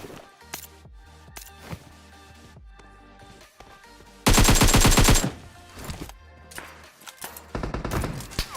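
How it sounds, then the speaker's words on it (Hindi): SKS rifle fire in the video game PUBG Mobile: scattered single shots and short bursts, with one loud, dense volley in the middle, then more shots toward the end. "सामने वाली बिल्डिंग से एक बंदा दबा के एसकेएस चलाता है"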